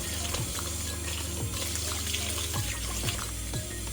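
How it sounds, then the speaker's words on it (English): Hot water runs from a kitchen tap into a sink to rinse meat for suya salad, a steady close splashing stream with a few soft rhythmic knocks underneath, fairly quiet and without talk. "So I'm going to run hot water."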